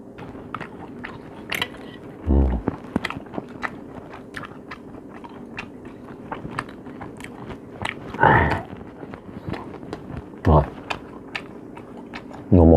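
Close, crunchy bites and chewing on roasted beef and king crab leg at a mukbang meal, a few loud crunches standing out over steady soft mouth sounds and light tapping.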